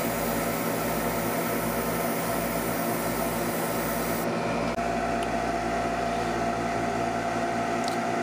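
An airbrush lays a dark red base coat onto the shield of a Gundam Girl model, producing a constant, even hiss of air and paint that shifts slightly in tone partway through, with no voices.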